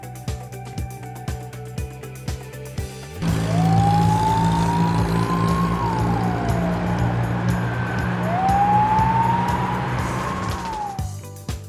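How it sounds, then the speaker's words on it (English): A fire truck siren wails in two long rising and falling sweeps over a rumbling engine, loud and close, following a stretch of rhythmic clicking. "Fire truck."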